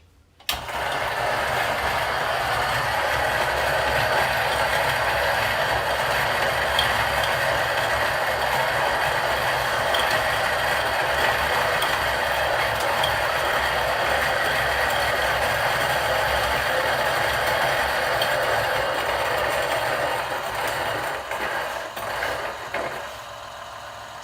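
A Niche coffee grinder on setting 12 works through 20 grams of espresso beans, a continuous close mechanical whir and crunch lasting about twenty seconds before it winds down and stops.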